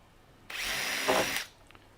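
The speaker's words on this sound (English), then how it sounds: "I'm only going in around 10mm. So I'm not using a drill stop." A power drill bores roughly 10mm into a melamine panel during a drawer build: one close, steady burst of whirring and grinding lasting about a second, with a brief heavier bite near the end, then quiet.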